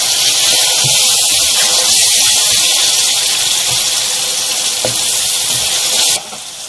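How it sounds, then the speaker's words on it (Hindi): A little water poured into egg masala cooking in a pan, a steady loud hiss and gush of sizzling liquid that runs for several seconds before dropping off abruptly. "यहाँ मैं इसमें थोड़ा सा पानी डाल रही हूँ ताकि मसाला हमारा नीचे ना लगे।"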